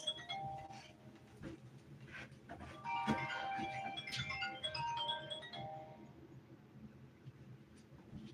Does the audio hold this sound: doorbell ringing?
yes